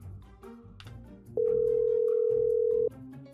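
A phone dial tone in the Roblox game Brookhaven, placed while calling an ambulance, sounds as one steady, clear electronic beep lasting about a second and a half, with faint background sound before and after.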